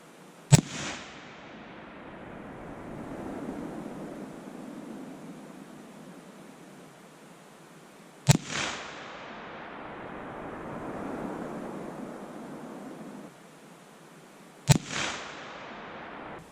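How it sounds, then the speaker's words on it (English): Three loud, sharp .30-06 rifle shots fired outdoors while sighting in at a target, each followed by a long rolling echo, spaced several seconds apart. "So let's give it a couple shots."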